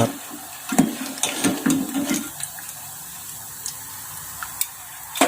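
Freshly fried French fries are scooped from hot oil into a strainer to drain. A few clattering scrapes and rustles come first, followed by a soft, steady hiss of draining oil.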